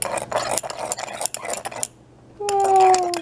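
A stir rod clinking against a glass beaker during a space sand lab, a rapid series of close, bright taps that stops briefly, then a sustained ringing glassy tone after a final strike.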